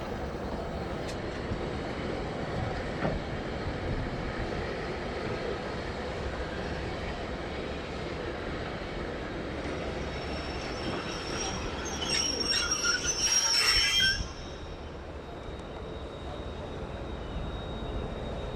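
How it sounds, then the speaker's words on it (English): A passenger excursion train, the Celebrations Express, pulls away from Paikakariki station heading north, a steady rolling rumble with a brief high metallic wheel squeal rising partway through before easing back. "the Celebrations Express swiftly departed Paikakariki and commences the journey north."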